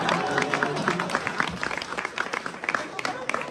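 Audience applause after a Uyghur song at an art night performance, a steady wash of clapping from a crowd that thins toward the end, with a voice speaking over it.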